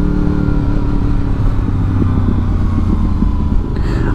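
A 2002 Honda VFR800 with 7k miles and a flapper valve modification rides along with a continuous throaty engine drone, loud and close, holding a steady pace throughout.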